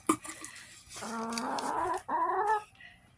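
Backyard chickens in a flock cluck nearby in a cold outdoor setting: one sharp squawk, then drawn-out clucking and a second bout of calls, fairly loud and alone.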